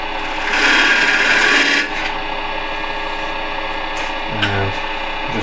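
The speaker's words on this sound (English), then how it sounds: "So I'll quickly sand this and then we'll focus on the inside" Hand sanding rasps briskly across the corner of a wooden box in one loud, close burst lasting about a second, followed by quieter room tone and a faint knock.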